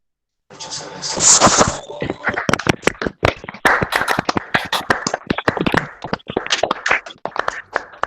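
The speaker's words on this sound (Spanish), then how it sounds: "un aplauso para Ariel, por favor" After a presentation, a small audience claps for the speaker Ariel; sparse, individual hand claps ring out sharply and irregularly, building briefly then continuing in scattered bursts.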